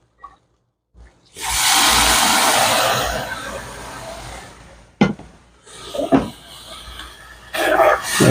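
Water pours into a pan with cooked lentils for a halwa, a loud splashing rush that fades, then scattered clanks and stirring sounds.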